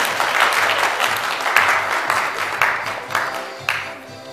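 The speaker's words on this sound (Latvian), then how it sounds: "Aplausīt!" An audience claps loudly and steadily for a young girl singer at a children's singing show, the applause holding even before thinning toward the end.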